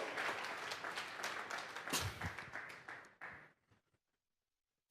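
A church congregation at a Sunday service gives applause as an offering to God, a dense burst of many hands clapping that thins out and stops after about three seconds, leaving silence.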